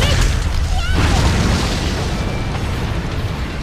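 In a video game, a counter hung with firecrackers bursts with a loud, rumbling boom when struck, followed by a decaying crackle and roar.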